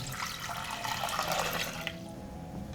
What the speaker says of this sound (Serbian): Preliću sa 1 litar vode.